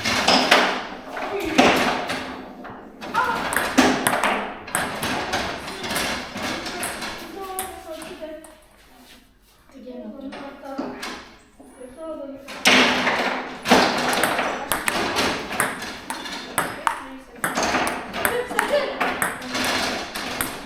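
Table tennis ball clicking back and forth between paddles and table during a father-and-child game, a quick series of sharp pings with a short quiet pause midway, under talk and exclamations.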